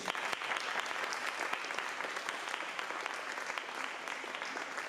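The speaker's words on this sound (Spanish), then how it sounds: "Un fuerte aplauso, por favor." Audience at a psychoanalysis talk applauding steadily, a dense even wash of hand claps that holds for several seconds at moderate distance with almost no voices.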